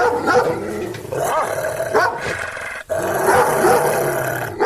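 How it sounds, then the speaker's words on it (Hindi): A dog barks and growls loudly and continuously nearby, with deep rough snarls running together and one brief break partway through. "टॉमी उन पर भौंकने लगता है"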